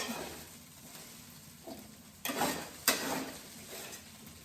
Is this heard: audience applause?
no